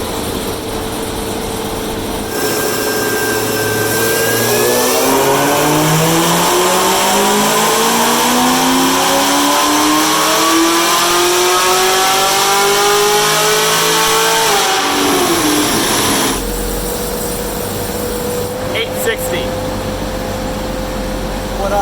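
A boosted car with a smaller belt fitted accelerates hard on an icy road, its engine note climbing steadily through a long rising pull before a shift, then settling to a lower drone.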